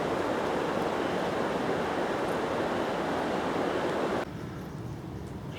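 Steady broadband rush of the Dorset Stour flowing strongly past weed beds at a fishery, close and continuous with no voices, dropping slightly in level near the end.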